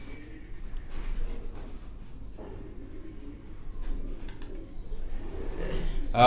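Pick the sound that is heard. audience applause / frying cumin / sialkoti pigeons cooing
sialkoti pigeons cooing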